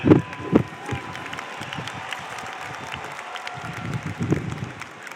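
A large audience at a university commencement ceremony claps steadily, a dense wash of applause that swells slightly toward the end, heard from within the crowd.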